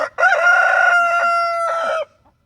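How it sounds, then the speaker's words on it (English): A rooster crows loudly and close by, one long, strained cock-a-doodle-doo call that ends abruptly. "Dueling roosters. One crows, the other crows."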